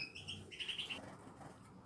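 Canaries and goldfinches in an outdoor aviary give faint, high chirps and short trills amid soft background noise, with no voices.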